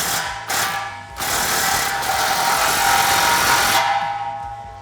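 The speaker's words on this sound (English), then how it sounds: "slide it into position, and tighten it down with a 15mm socket" A power tool drives a 15mm socket to tighten an exhaust clamp on a 2021-2022 Ford F-150 Corsa Performance Xtreme single exhaust, a loud close whirring rattle in several bursts with short pauses between.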